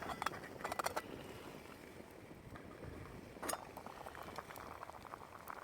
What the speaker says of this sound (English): And there's lunch still bubbling away.